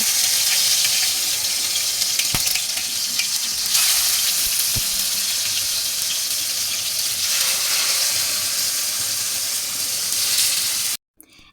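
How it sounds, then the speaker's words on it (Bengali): Marinated chicken frying in hot oil, a loud continuous close sizzle and hiss with a couple of sharp clicks, lasting steadily before cutting off abruptly near the end. "1 ঘন্টা পর আমি আমার মেরিনেট হওয়া মাংসটাকে গরম তেলে ফ্রাই করে নিচ্ছি।"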